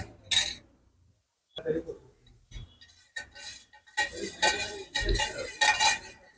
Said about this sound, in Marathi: असं ढवळून घ्यायचं छान